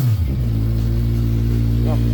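A 2016 Kawasaki Ninja 1000 sport-touring motorcycle idling and revving close by, a deep steady engine rumble with a brief rev blip near the start and another toward the end.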